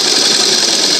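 A sewing machine stitches two fabric strips together for a doll's dress, giving a steady, close, continuous motor hum.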